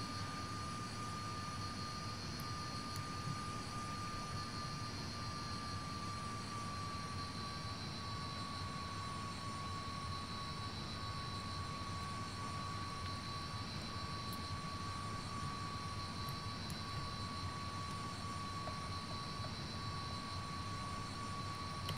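A vintage Comet jet airliner in the flight simulator FSX at Heraklion runs its engines, producing a steady, continuous jet drone with a high whine. The sound stays at an even level throughout, with no speech.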